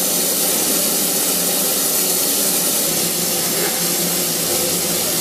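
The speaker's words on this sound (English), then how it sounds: "a lot of steam and crap coming out of that engine" Steam vents from a steam locomotive engine in the Indian Himalayas, a loud, continuous, even hiss and rush that fills the whole stretch without pause and without voices.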